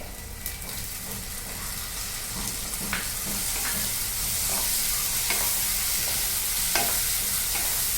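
Tomato stirred into browned onions frying in a pan for a Maharashtrian sandgyachi bhaji, with a steady sizzle under repeated scraping stir strokes, close and moderately loud, no voices.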